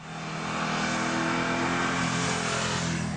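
A V8-swapped Mazda RX7 engine holds a loud, steady high rev for about three seconds, a close and continuous roar with no one speaking over it.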